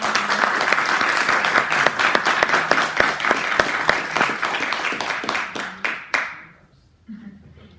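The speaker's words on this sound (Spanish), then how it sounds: "Un aplauso." Audience applause at an academic law ceremony after a participation certificate is handed over, a dense, loud burst of many hands clapping that thins to a few scattered claps and stops near the end.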